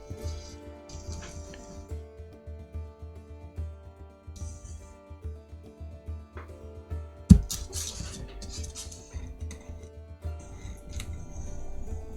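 Someone cuts out small cube-shaped wall sections for dungeon cavern terrain tiles, giving quiet, close snipping and ticking cuts in an irregular rhythm, with a sharp click partway through.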